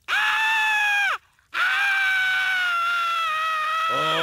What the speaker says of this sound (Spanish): Esta oruga está gritando.